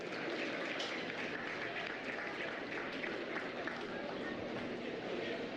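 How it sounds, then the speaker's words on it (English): Steady, sustained clapping from an audience at a 2025 swine show honours a young exhibitor with her champion Poland gilt. The applause is continuous and evenly dense throughout, with voices faintly underneath. "Let's give this young lady a big round of applause."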